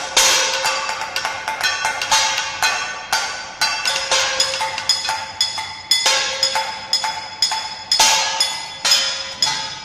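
A kitchen utensil struck over and over in a fast, uneven rhythm, each hit ringing with a bright, shimmering tone like a Chinese lion-dance gong. Loud and close, with no voices.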